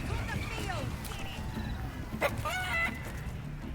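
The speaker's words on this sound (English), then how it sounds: "The chicken's head bobs," Game chicken in Baldur's Gate 3 clucks and squawks during a frantic chase, with several short rising calls and a sharp burst midway, layered over ambient game noise with a voice speaking underneath.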